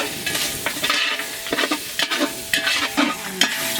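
Pork chowmein noodles stir-fried in hot oil in a rural Nepali village kitchen, a loud sizzle with repeated scraping stirs of the spatula against the pan.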